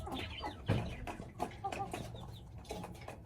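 An Aseel hen clucks in a coop, giving soft, irregular clucks with some rustling and flapping at close range.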